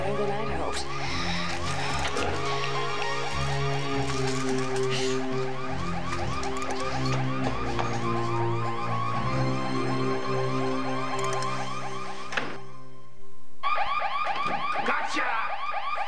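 A house alarm blares loud and continuous in a repeating electronic siren pattern, then cuts out briefly and resumes near the end.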